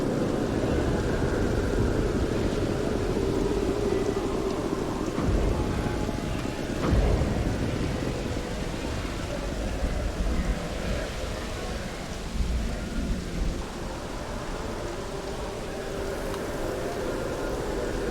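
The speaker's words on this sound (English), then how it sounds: "Is it raining?" Steady video game rain noise with low rumbles of thunder, one heavier rumble near the middle, constant and fairly loud, from Starfield.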